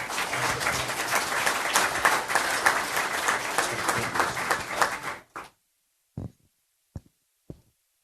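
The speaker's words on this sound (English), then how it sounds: "So a round of applause for Andrea also." A council meeting audience breaks into sustained applause, a thick steady roar of many hands clapping for about five seconds, then it cuts off and a few isolated late claps follow in near silence.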